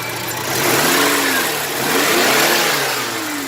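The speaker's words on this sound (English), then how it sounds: "the engine runs pretty well" A turbocharged car engine with new wires, cap and rotor runs nearby, its pitch rising and falling as it revs up twice and settles back, loud and steady with no talking.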